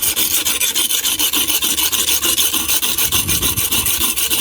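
Steady, rhythmic rasping of a stainless steel knife blade being sharpened, repeated strokes at an even pace, close and loud with no talking.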